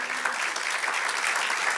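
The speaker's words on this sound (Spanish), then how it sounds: "Dale otro aplauso al Señor" A church congregation claps for the Lord after a prayer during a sermon, a bright continuous wash of many hands, fairly loud and even, with no talk over it.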